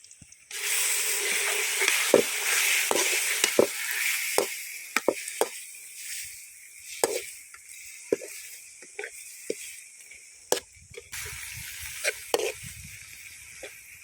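Goat intestines sizzle loudly as they hit a hot pan, with scattered clinks and scrapes of a utensil stirring through the frying.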